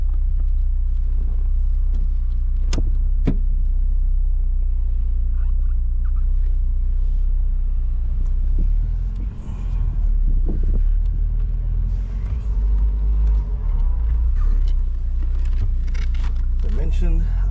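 A Porsche 944 convertible on the road, with a loud, steady low engine and road rumble running throughout and a couple of sharp clicks early on.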